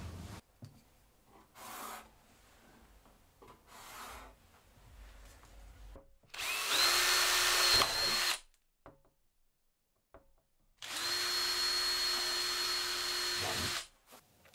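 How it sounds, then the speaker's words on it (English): A power drill drives screws into the top of a barrel while a dust cyclone cart is being built. It makes two long, loud whirring bursts of about two and six seconds, separated by quiet and preceded by faint shuffling. "then just drive some screws in from the inside to lock it into place"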